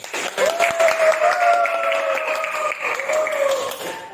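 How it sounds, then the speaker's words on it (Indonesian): Classroom of students applauding their teacher, a burst of clapping under a noisy room, with a long whistle-like tone running over it. "Beri tepuk tangan yang dulu."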